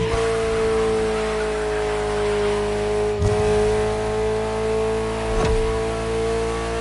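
Ferrari supercar engine in the Ferrari Supercars PS4 racing game, a steady loud droning roar held at constant pitch, with two brief thumps or shifts along the way and no talk.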